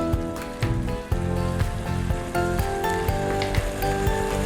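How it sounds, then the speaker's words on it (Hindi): Masala roasting in a pan with a little water, a loud crackling sizzle with dense popping and bursts that swell and ease throughout. "थोड़ा पानी डालेंगे ताकि मसाले अच्छी तरह भुने"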